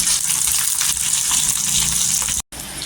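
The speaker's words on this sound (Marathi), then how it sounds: "तव्यामध्ये 1 चमचा तेल टाकलेलं आहे. तेल गरम झालं का इथे लसूण टाकायची. लसूण टाकल्यानंतर आहे ना इथे हिरव्या मिरच्या टाकायच्या." Garlic and green chilies frying in a spoonful of hot oil in a pan, a steady loud sizzle with a brief dropout near the end, no talking.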